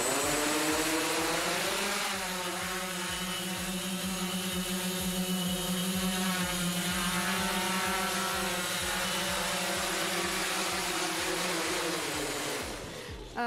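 A small quadcopter drone hovering close by, its propellers giving a loud steady high whine with layered harmonic tones that shift in pitch partway through before cutting off abruptly at the end.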